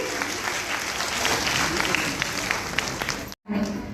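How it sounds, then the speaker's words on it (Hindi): Steady audience applause fills the recording, dense clapping from a crowd, briefly cut off near the end before resuming. "तालियां और जोर से बजनी चाहिए।"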